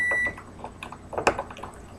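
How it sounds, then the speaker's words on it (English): A microwave oven used to melt white chocolate chips gives a steady electronic tone that cuts off, followed by quieter kitchen clatter and clicks nearby. "that's my microwave going off because now I have my white chocolate chips melting"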